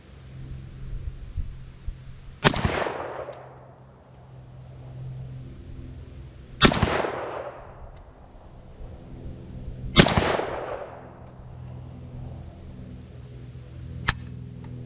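Rifle, an AK, fired while zeroing a red dot optic outdoors: three loud single gunshots a few seconds apart, each with a long echoing tail, followed by a sharper, quieter click near the end.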